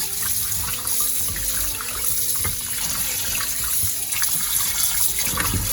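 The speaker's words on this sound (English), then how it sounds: "I'm gonna rinse all that vinegar, all that lime, and the extra salt that you add to it." Oxtail meat coated in vinegar, lime and salt is rinsed under a running kitchen tap, water gushing steadily and splashing over the meat in a sink with faint clinks, close and continuous throughout.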